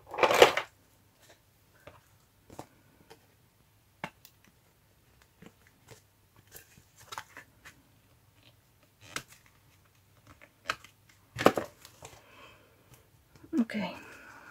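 Scissors snipping off protruding bits of craft material on a fairy journal cover at a cluttered desk, heard as sparse, faint, close clicks and snips scattered over the clip.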